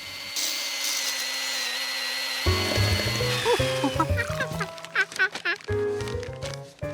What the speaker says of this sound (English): Could there be a chainsaw in Mabel's